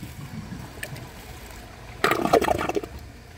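A 1995 Mansfield Alto toilet flushes with a bag in the bowl: a quiet lead-in, then a sudden loud rush and gurgle of water lasting over a second, close by.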